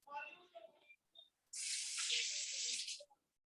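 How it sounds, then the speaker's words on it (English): A kitchen tap gushes into a sink for about a second and a half as hands are rinsed, close and steady, with a person talking before it starts. "let me rinse my hands."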